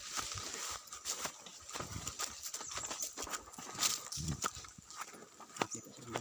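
A carabao (water buffalo) on a coconut farm, its hooves thudding in an irregular walking rhythm nearby, mixed with rustling and brief knocks.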